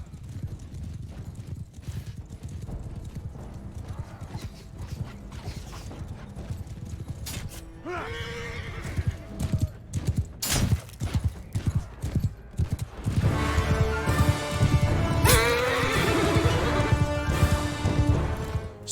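Horse in Mount & Blade II: Bannerlord breaking into a gallop, rapid drumming hoofbeats that grow louder and denser, with a whinny midway and battle clatter layered in toward the end.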